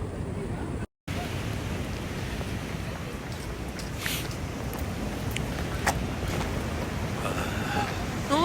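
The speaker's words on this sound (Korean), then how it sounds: "파도 장난 아니야." Strong sea waves crashing at a beach on Korea's east coast at Jeongdongjin, a heavy continuous roar with wind buffeting the microphone and people talking nearby.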